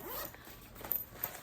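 A zipper is drawn along a nylon mesh bag that zips all the way around, a close, brisk rasping pull lasting about a second with a few small clicks at the end.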